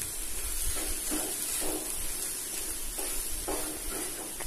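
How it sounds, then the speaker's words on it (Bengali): Fish chop filling of fish, onion, garlic, green chillies, spices and boiled potato fries in a pan with a steady, dense hiss, broken by a few short scraping stirs, close and continuous without any talking. "এই পেঁয়াজ রসুনটা ঠিক 3 মিনিট ভাজবেন"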